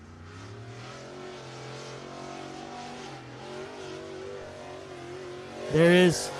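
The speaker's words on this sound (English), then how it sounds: "And our last pair rolling out onto the racing surface will be the 509 of Kevin Kofer" Dirt-track race cars at I-75 Raceway in Niota, Tennessee, including a Swartz car, idle and rumble as they roll onto the track, a steady engine drone under announcer talk, then a sharp loud rev near the end.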